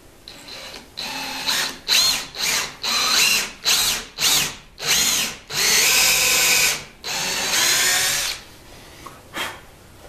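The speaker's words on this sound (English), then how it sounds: "Take our handy dandy countersink." Power drill driving a countersink bit into black walnut wood, heard as a series of short, loud, close whirring bursts separated by pauses, ending with a couple of quicker taps.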